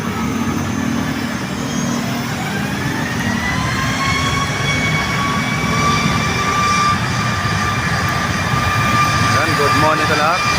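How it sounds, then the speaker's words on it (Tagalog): China Air airliner taking off from an airport, a sustained jet roar with a rising whine that holds loud and steady over ambient traffic noise. "Napalipad na yung China Air."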